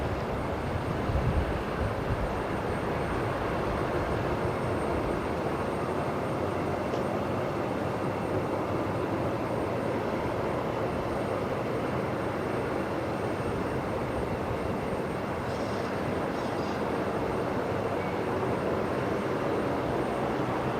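A Jetstar Airbus A321neo touches down on runway 01 at Brisbane Airport at night, arriving from Melbourne; a steady, broad, distant roar fills the whole stretch without pause or voices.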